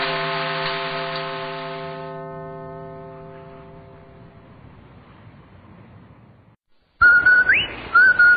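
The Rinso White whistle from an old radio advertisement is a sharp, bright, bird-like whistled call with a rising and falling pitch. It bursts in loudly near the end after a long, slowly fading chime tone and a moment of silence.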